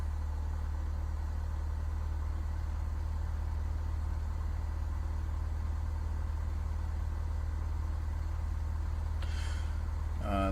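An aircraft engine idles while warming up with the parking brake engaged in the Falco F8L flight simulator, a steady low drone throughout, ending with a brief clicking sound.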